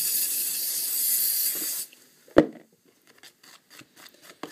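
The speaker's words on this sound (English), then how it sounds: "You need starch, spray starch." Spray starch hisses from an aerosol can in a long steady burst, then cuts off, followed by a sharp knock and a few quieter rustles and taps close by.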